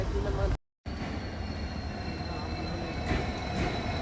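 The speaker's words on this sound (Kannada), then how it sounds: "ಹಂಗೆ ನನ್ನ ಟ್ರೈನ್ ಬಂತು guys, Mangaluru central to Yeshwanthpur express." The Mangaluru Central to Yeshwantpur express train arrives at a station, its steady loud rumble and wheel noise running throughout with a brief dropout near the start.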